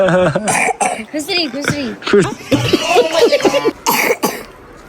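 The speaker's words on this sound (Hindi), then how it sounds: "खांसी आ रही है, बीमार हो?" A person coughs several times in short, rough bursts, mixed in with close-up talking.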